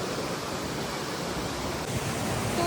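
Waterfall at Blue Spring in New Zealand, a steady, faint broadband rush of falling water with no distinct events.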